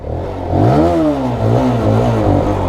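A QJ Motor Monster SRK180 motorcycle's exhaust rises as the engine revs while riding off, a loud, close throaty drone that climbs in pitch, dips, then climbs again.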